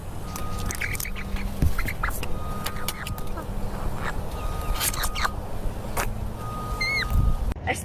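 Backyard chickens cluck and call in short bursts over steady outdoor background noise, with a few sharper squawks toward the end; faint talk may be mixed in.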